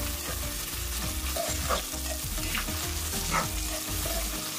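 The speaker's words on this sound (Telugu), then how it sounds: "ఇది కూడా ఒక 5 మినిట్స్ ఫ్రై అవ్వాలండి. సరే కలుపుకోవాలండి." Carrots and beans frying in a pan for South Indian veg pulao, a close, steady sizzle with frequent scraping and clattering as the vegetables are stirred.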